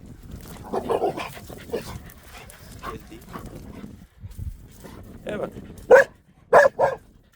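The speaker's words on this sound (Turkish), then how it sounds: "Bir ev köpeğimiz var burada." A house dog barks several times, a few sharp close barks near the end, with voices talking through the earlier part, outdoors on a nature walk.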